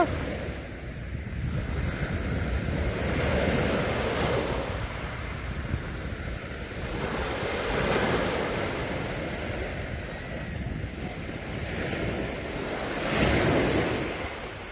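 Sea waves wash onto a stony beach at Portsmouth, surging and receding in slow swells every few seconds, with wind buffeting the microphone over the rolling surf.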